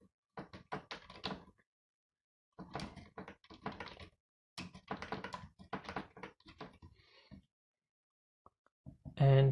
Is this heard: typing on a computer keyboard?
yes